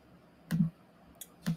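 Computer mouse clicks during a slide-editing lesson: three quiet, separate clicks spaced about half a second apart, close and dry with no talk.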